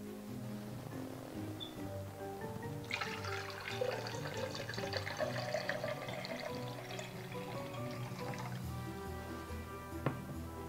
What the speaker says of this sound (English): we're going to pour the water into this vase about halfway